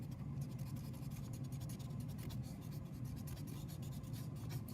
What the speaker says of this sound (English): Erase some of this.